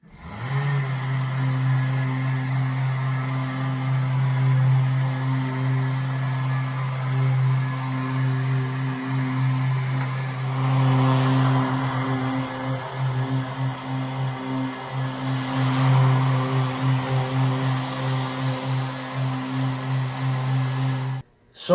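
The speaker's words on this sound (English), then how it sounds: "we're just going to do some buffing here" A sander buffs an oil-finished wooden tabletop, a steady close whirring hum with stable tones, running continuously for about twenty seconds before cutting off abruptly at the end.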